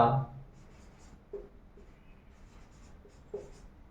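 Chalk or marker strokes on a classroom board during a Hindi grammar lesson, a few short scratchy taps and scrapes spaced out across a few seconds, fairly close and quiet.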